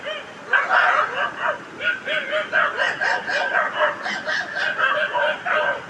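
Dogs bark, yip and snarl in quick, overlapping bursts, close and agitated, like a scuffle between them.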